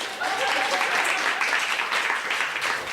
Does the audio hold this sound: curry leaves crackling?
no